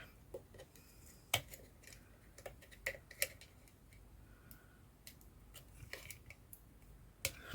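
Scissors trimming a cookie-cutter ornament made from a recycled Christmas card, heard as a series of quiet, crisp snips and clicks at an irregular pace, with no one talking.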